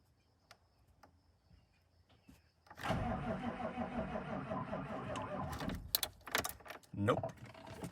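A used 1990s truck engine cranks and catches after a few quiet clicks and jingles, then settles into a loud, steady idle with sharp knocks and bumps near the end.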